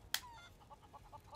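Chickens cluck in Final Fantasy 7 Rebirth, a series of short, faint clucks in quick succession after a sharp click at the start, with no talk.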